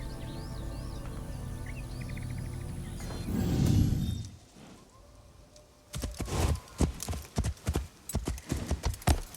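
Birdsong and ambient game sounds give way to a horse in Assassin's Creed Shadows breaking into a gallop, its hooves pounding in a quick, steady clip-clop rhythm over the last few seconds.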